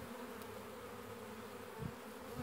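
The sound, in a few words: bees moving into a hive from a wine barrel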